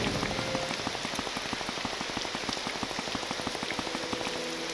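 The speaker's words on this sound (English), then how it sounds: "it rains so much in this game" Steady rain in a video game, Morrowind, patters on a hard surface, a dense run of close, sharp drops over a constant hiss, with no voices.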